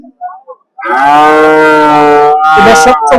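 A cow gives one long, loud moo close by at a cattle market by a ferry ghat, followed by a shorter second call, with a few faint sounds just before.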